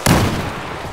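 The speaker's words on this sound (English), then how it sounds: "Everything is exploding." A single loud, close blast in the video game Battlefield 4 during a Naval Strike match, a sharp boom that rolls into a long fading rumble with no talking.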